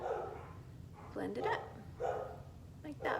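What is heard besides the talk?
dogs barking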